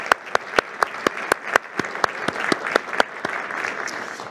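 Applause from a small audience at a talk by US Homeland Security Secretary Kirstjen Nielsen, with crisp, evenly spaced claps standing out over a softer, steady patter of clapping.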